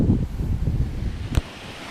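Steady wind buffets the microphone at a shoreline fishing spot, a low continuous rumble throughout with a short sharp gust or bump near the end.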